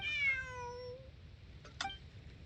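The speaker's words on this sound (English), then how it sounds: "That cat that fled from Pier looks like a cat from the Humane Society is looking for." A cat meows once in the video game Genshin Impact, a clear, high call that glides downward, followed after a pause by two short, sharp sound-effect clicks over a faint background hum.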